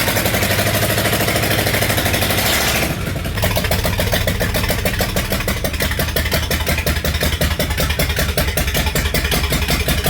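A roadster's engine cranks over and fires up, then settles into a loud, close, steady rhythmic idle with a fast even pulse and no talking over it.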